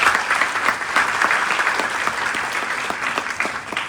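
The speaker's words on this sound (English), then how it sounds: "if we get one last round of applause for all our wonderful panelists" Audience applauding panelists at the close of a panel's question-and-answer session, a steady, dense clapping that fills the whole stretch at even loudness with no voices over it.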